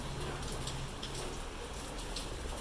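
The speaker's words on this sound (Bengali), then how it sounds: "হালকা ফুলকা বৃষ্টি হচ্ছে।" Light rain falling outdoors makes a steady, soft, even hiss that stays faint and unbroken throughout, with no voices.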